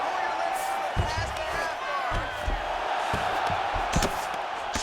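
Arena crowd in the UFC 5 fighting game swells in reaction to a strike from the fighter on the bottom, a steady roar with scattered shouts and a few sharp thuds over about five seconds.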